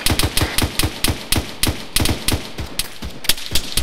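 Rapid bursts of heavy gunfire from a gunship passing overhead in ARMA 3, dozens of sharp cracks in an irregular, fast rhythm, loud and close with no talking.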